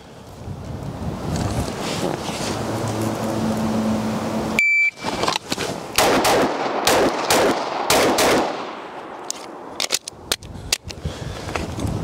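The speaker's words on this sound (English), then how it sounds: "So let's try two shots. Two shots on each." Pistol shots in a hostage rescue shooting drill crack out close and loud after steady wind noise, a series of sharp reports in quick pairs with brief gaps between them, followed by a few more scattered shots.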